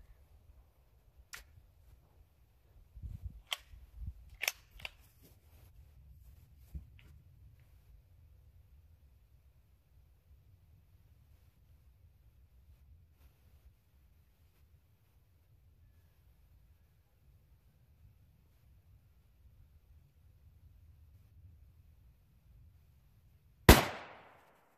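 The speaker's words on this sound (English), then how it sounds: "Well, we took that 308 and shot that thing." A .308 SIG Cross rifle fires one loud, sharp shot near the end after a long quiet stretch. The shot decays quickly outdoors, and a few faint clicks and knocks come before it.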